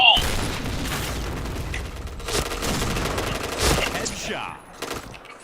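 A grenade blast and bursts of gunfire ring out in the shooter game Point Blank, making a dense, loud run of shots and booms with a swooping effect near the end, while a voice talks over the action.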